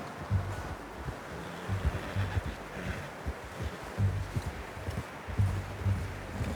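Horse hooves clip-clop in a steady walking rhythm in Red Dead Redemption 2, soft and close under light wind noise, with repeated low tonal hums between steps.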